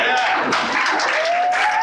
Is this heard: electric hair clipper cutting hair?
no